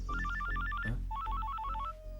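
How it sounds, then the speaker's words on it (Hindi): An electronic phone ringtone plays a bright, repeating melodic phrase twice with a brief break between, loud and close with no voices over it. "फोन आ गया, काट देता हूँ मैं"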